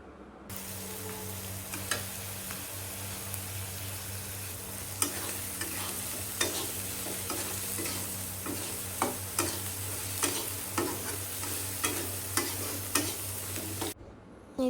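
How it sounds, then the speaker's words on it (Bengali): Fish roe curry is stirred gently in a pan, a low continuous simmer and sizzle punctuated by regular light clicks and taps of the spoon against the pan, with a steady hum underneath. "হালকা নাড়াচাড়া করে নেব।"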